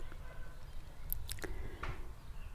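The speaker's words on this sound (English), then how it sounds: "currently the fire is going just over there, which is the crackling noises you can hear" Wood fire crackling inside a yurt: a few sharp, sparse pops and snaps over a low, steady background rumble, quiet and close, with no voices.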